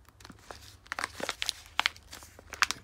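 Plastic packaging over oiled Speedfactory Racing long H-beam connecting rods for a D16 crinkles and rustles in close, irregular bursts of crackling, fairly quiet and without talk.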